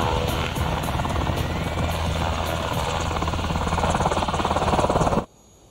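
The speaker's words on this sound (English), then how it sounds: "This is the HH-60L, the latest version of the medevac Black Hawk helicopter." A Black Hawk HH-60L medevac helicopter flies close and loud, its rotor thudding in rapid, steady beats over engine whine before cutting off abruptly.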